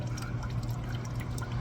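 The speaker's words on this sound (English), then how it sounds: "let's let this drain out." Water drains out steadily in a continuous gurgling, trickling flow, close and fairly quiet, from an old nailhead engine.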